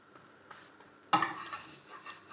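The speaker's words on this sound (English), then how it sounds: "we want this wrap to cook for a short while" Breakfast wrap cooking in a pan, with a faint quiet sizzle and soft stirring, then a sharp scrape or clatter as the wrap is moved and folded, followed by continued low frying sounds.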